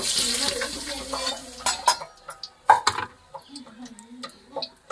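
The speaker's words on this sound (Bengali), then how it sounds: "ক্যাপসিকামটা ভেজে নিচ্ছি।" Capsicum frying in oil in a pan: a loud sizzling hiss fills the first two seconds, then quieter scattered clinks and scrapes of stirring follow.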